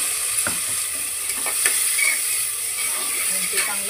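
Rice being stirred and sautéed with a ground spice paste for a white peas pulao, a steady close scraping and stirring with a soft sizzle running throughout, occasional spoon clicks against the pan.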